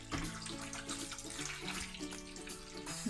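Hot water is poured into a cooking pot, a steady running, splashing stream with rising resonant tones as the pot fills, close and fairly quiet.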